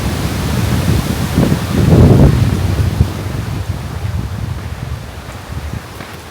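The Aruvikkuzhi waterfall near Thekkady drops from a great height into a deep gorge, a steady broad rushing roar that swells briefly, mixed with wind buffeting the microphone.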